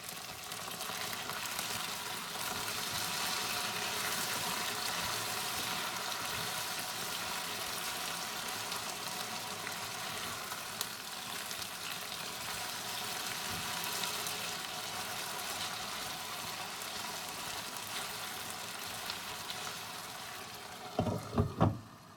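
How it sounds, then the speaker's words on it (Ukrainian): Potatoes fry in a pan with a dense, steady sizzle heard close up for a long stretch, ending in a few sharp scrapes and knocks as a spatula stirs them. "Тут картопля вже їбашиться. Ми беремо лопатку і помішуємо її."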